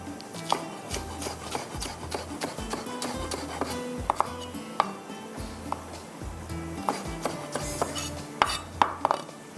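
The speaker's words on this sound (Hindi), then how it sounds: "वेजिटेबल हमने कट कर ली" Vegetables are chopped with a knife on a board in a home kitchen: rapid, uneven thuds and sharp taps in quick bursts, close and clear, with occasional scraping and clinking of utensils.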